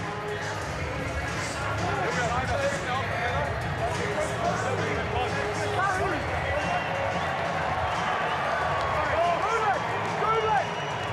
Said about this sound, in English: Really enthusiastic crowd here tonight